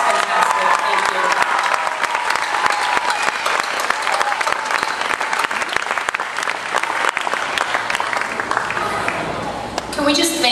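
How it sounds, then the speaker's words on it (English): Continuous, loud audience applause at a 2012 graduation ceremony honouring the keynote speakers, dense clapping with some crowd noise, running for about ten seconds before tapering off. "Really give an applause to both of our keynote speakers."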